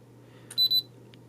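A ZTE Axon 7 smartphone camera gives its point-and-focus beep as a short high double electronic tone, clear and close over faint background hum.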